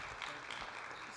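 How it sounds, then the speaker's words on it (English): Brief, fairly faint applause from an audience honouring the mayor, a steady patter of clapping with a few louder claps across the short stretch. "Let's give another applause for the mayor."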